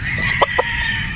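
Gamefowl roosters giving a few short, clipped clucks close by, two quick calls amid steady outdoor background noise.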